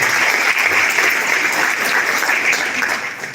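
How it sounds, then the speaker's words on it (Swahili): An audience applauds at a graduation ceremony. The clapping is dense and sustained, with many hands at a steady level, and it fades slightly at the end. "Tumpigie makofi tafadhali."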